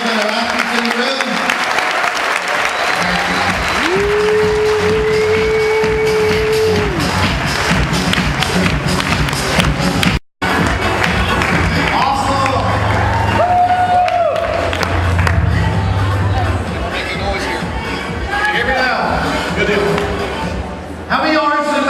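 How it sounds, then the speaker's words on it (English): A room full of people at a company regional event applauds and cheers loudly and steadily for about twenty seconds, with whoops and voices mixed into the dense clapping. "Give these guys all a big round of applause"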